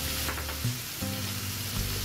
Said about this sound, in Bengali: দেখতে পাচ্ছেন চিংড়ি মাছটাও এখানে হালকা ভাজা হয়ে গেছে।